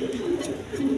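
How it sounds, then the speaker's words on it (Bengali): Pigeons cooing close by in soft, low, rounded murmurs that overlap in a continuous throaty rumble. "একদম এ কোয়ালিটি কবুতর"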